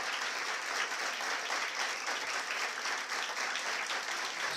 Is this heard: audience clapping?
yes